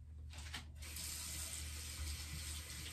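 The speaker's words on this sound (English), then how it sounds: "I'm going to go ahead and rinse this off." Tap water runs steadily into a sink while a face is rinsed, a close, continuous hiss of flowing water with small splashy variations and no talking.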